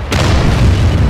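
In a tank combat video game, a single loud, close explosive boom hits a British Cromwell tank, and a deep rumble fills the whole short moment.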